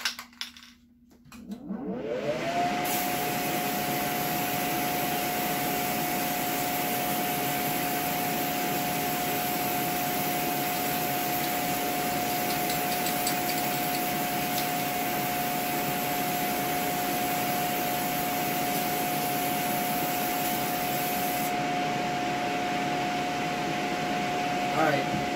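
Steady aerosol primer spray hissing onto a Guitar Hero guitar faceplate for a final full coat, a continuous close, loud broadband hiss with a faint tonal whine that runs almost unbroken for over twenty seconds.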